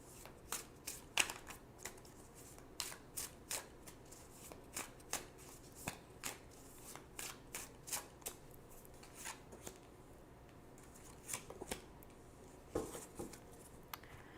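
Tarot cards being shuffled in a reading, a long run of crisp riffling and slapping card sounds in repeated bursts, close and fairly quiet, with no talking.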